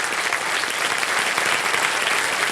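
Studio audience applause on the KBC quiz show, a dense, even roar of many hands clapping at once, sustained and unbroken from start to finish with no talk over it.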